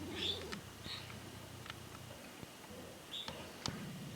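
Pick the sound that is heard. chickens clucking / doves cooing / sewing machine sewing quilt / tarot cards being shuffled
doves cooing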